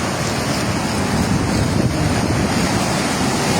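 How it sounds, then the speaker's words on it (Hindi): Floodwater from a swollen river rushes over and against a bridge, a loud, continuous roaring wash with wind buffeting the microphone and no voices. "पुल के ऊपर से भी पानी जा रहा है"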